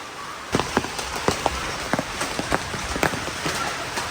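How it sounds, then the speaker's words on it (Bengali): Rain patters on a hard surface in irregular drops, each landing as a crisp close tap over a soft, steady hiss of falling water. "টিপ টিপ টিপ টিপ বৃষ্টি, এই বৃষ্টিটা মনে হয় না থামবে।"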